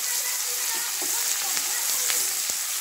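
Upma ingredients sizzle and fry in a pan while being stirred, a continuous hiss with occasional scraping clicks of the spoon close by, no talking.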